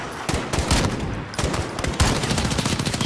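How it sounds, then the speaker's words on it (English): Heavy gunfire in a Call of Duty: Modern Warfare battle rattles continuously, with rapid automatic bursts and sharp, loud shots stacked close together over a dense, rumbling din. "I can't see where they're shooting from"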